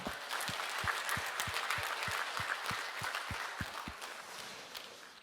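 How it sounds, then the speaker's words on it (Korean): A church congregation claps steadily during a Sunday worship service, with dense, sustained applause from many hands and a few sharper individual claps standing out throughout. "하나님께 영광의 박수 올려드리겠습니다"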